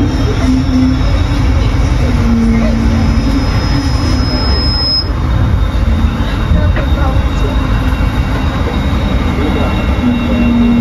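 Steady loud rumble of the Jayabaya train rolling into Jatinegara Station, Jakarta, with a high metallic squeal from the wheels and faint voices in the background.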